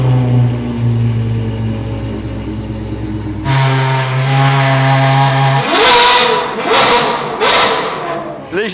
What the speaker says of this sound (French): La Ferrari 812, la POG d'Armerie, 812, 8 pour 800 chevaux, 12 pour V12, et qui a un nouveau pot, nouvelle ligne que je vais vous faire entendre tout de suite.